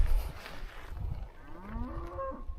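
A cow lets out a single drawn-out moo that rises and wavers in pitch, moderately distant outdoors over low wind rumble.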